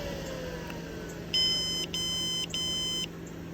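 Three short bursts of high electronic beeping from a K9 vehicle heat alarm system, each lasting about half a second, over a steady low hum.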